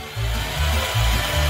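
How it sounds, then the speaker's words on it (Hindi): A power drill whirs in an animated cartoon, running in repeated low droning bursts that start and stop in a steady rhythm, loud and close, with no talk. "मैं यहाँ सब ड्रिल करूंगी।"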